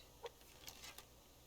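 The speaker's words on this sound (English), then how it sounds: "I did hear a chicken up here." A chicken clucks in the survival video game Subsistence, a few faint, brief clucks and clicks scattered across a quiet outdoor ambience, distant and soft with no talking.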